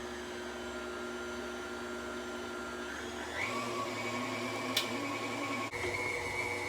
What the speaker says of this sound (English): I'm going ahead and letting the machine do all of the mixing for me.